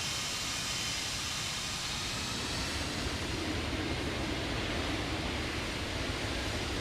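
Steady broadband roar of a Boeing 747-200 freighter's engines in the X-Plane flight simulator, a constant wind-like rush that holds loud and even throughout with no talk.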